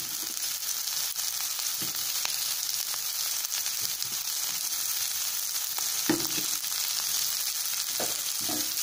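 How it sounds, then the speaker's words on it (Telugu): Capsicum and mixed vegetables for veg noodles frying in a hot pan, a steady loud sizzle with occasional stirring scrapes and clinks, no voices. "క్యాప్సికమ్ వేసుకొని ఒక 1/2 మినిట్ సేపు 1/2 మినిట్ టు 1 మినిట్ మనం దీన్ని ఫ్రై చేసుకుందాం."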